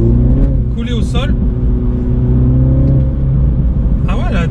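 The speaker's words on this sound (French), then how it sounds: "elle a des retours d'échappement qui sont plutôt sympathiques" Mini GP 2020 accelerating hard with a loud, steady engine roar, and short crackling exhaust pops bursting out near the start and again near the end, while a person talks over it.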